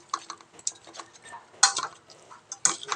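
Utensil scraping and tapping against a pot while sardine curry with tomato and chili is stirred, soft irregular clinks with a few sharper knocks, close and quiet with no talking.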